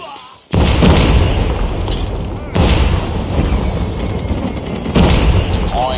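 A loud grenade blast in the Call of Duty Mobile video game, a sudden heavy boom followed by sustained rumbling and further explosive bursts close by, with game voice callouts mixed in.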